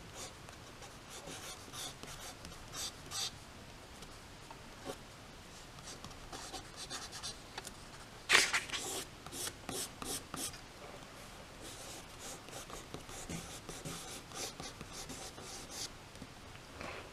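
Pastel stippling on paper, pointillism technique: soft, faint dabbing and scratchy taps repeated in quick irregular bursts, close up, with a louder scrape partway through and quiet speech now and then.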